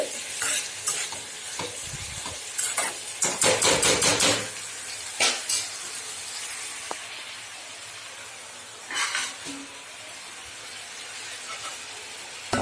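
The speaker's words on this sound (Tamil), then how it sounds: "காய் நல்லா வதங்கி வரட்டுங்க" Bitter gourd sizzles and hisses in a hot pan while a spoon stirs and scrapes in bursts, with quieter frying in between; no talking.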